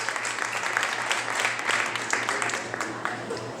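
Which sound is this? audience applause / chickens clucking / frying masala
audience applause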